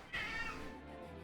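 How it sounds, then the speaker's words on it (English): A large house cat gives a single drawn-out meow, close by and fairly quiet, wanting to be let out of a room. "the big cat wants out of the room"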